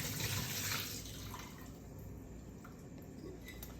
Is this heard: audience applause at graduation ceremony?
no